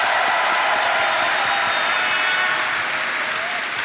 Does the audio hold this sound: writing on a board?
no